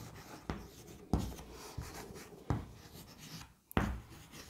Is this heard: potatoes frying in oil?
no